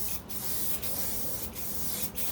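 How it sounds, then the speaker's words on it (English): Continuous hiss of a spray paint can held close to fiberglass bodywork on a 1969 Corvette C3 door, with brief momentary breaks in the spray roughly every three-quarters of a second. "I know it seems insane to be using a spray can, a spray paint on a car"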